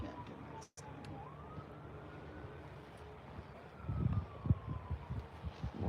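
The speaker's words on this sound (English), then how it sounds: "More sirens coming." Distant emergency sirens wail faintly in the background near a brush fire in Lehigh Township, Pennsylvania, with a slow rising and falling tone over wind noise and some low rumbling bursts toward the end.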